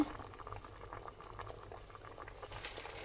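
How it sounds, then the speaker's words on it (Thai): A pot of mushroom curry boils hard with a dense bubbling patter, steady and close. "เดือดแรง"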